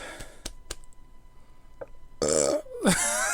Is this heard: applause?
no